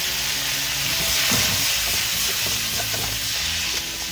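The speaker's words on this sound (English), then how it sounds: "once our garlic starts to brown out, let's now add our shrimp" Shrimp sizzle and fry in garlic butter in a pan over medium-high heat, a steady close hiss with soft stirring scrapes throughout.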